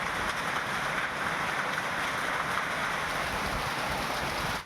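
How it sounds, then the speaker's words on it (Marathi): Unseasonal rain falls in Nashik, a dense, steady hiss of drops hitting surfaces that stays fairly quiet and even throughout, with no voices heard. "नाशिकमध्ये देखील पावसानं हजेरी लावलेली आहे"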